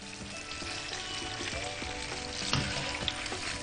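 Crispy fried shrimp, prepared with oyster sauce, crackling steadily with dense fine pops and a few sharper snaps, close and moderately loud, with no talking.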